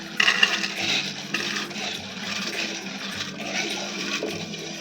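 Water is poured into a pressure cooker holding lentils, a close splashing gush with a clatter at the start, then steady running and sloshing that continues for several seconds with no talk.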